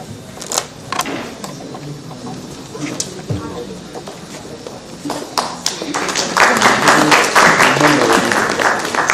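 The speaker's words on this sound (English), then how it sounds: "huge round of applause" Audience in a conference senate hall breaking into applause, scattered claps at first building to dense, sustained clapping toward the end, with a voice talking over the start.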